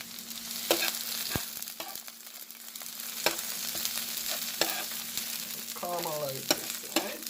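Rice frying with scotch bonnet and thyme, a steady sizzle broken by scrapes and clinks of stirring against the pan, fairly close with no talk.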